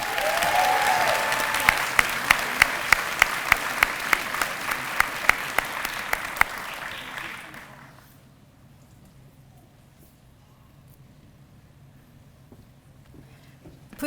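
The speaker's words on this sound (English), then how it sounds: "Please join me in another round of applause for all of our graduates today." Dense, sustained applause from a graduation pinning ceremony audience honoring medical imaging graduates, loud and steady for about seven seconds with sharp individual claps standing out, then fading to quiet room tone.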